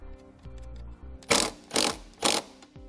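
Ratchet wrench working a 10 millimeter nut on a car battery terminal of a 2017 Chevrolet, a fine clicking run followed by three loud separate bursts, close and clear with no talk.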